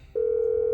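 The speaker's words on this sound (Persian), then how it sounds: "گوشی در میریم، تماس میگیریم" A phone in the video game GTA gives a single steady dialing tone that begins abruptly and holds, loud and clean.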